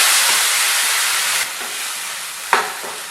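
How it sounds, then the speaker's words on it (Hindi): Onions and tomato paste frying in a pan, a loud steady hiss of sizzling that drops off partway through, then quieter frying with a sharp stir or clink near the end. "प्याज डाल दिए और इसमें हम टमाटर का पेस्ट डाल देते हैं। इस तरह से इसे भून लेंगे।"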